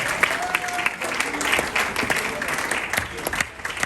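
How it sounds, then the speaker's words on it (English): Audience at a community awards evening claps warmly for an honoree, steady applause with a few sharper individual claps and faint murmured voices beneath, tapering slightly at the end. "But give her a round of applause, ladies and gentlemen."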